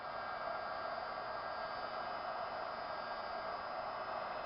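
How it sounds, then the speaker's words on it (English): A steady, even whoosh of hot air from a small embossing heat tool blowing continuously over clear plates, with no pauses or talk. "The sound you hear is the embossing tool."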